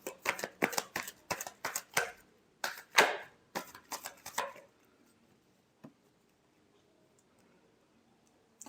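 A deck of tarot cards being shuffled by hand, a quick burst of crisp riffling slaps and flicks for a few seconds, then near silence with a single faint tap.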